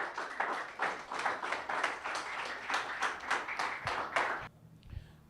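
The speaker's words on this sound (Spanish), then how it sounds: "Un aplauso al Señor" A church congregation applauds the Lord during a sermon, with loud, rhythmic unison clapping for about four and a half seconds that then stops abruptly.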